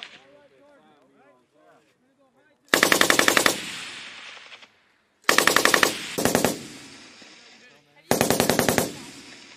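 An M240 machine gun fires on a Marine long range exercise in three loud, rapid bursts with rattling echoes between them, after a brief spoken voice at the start.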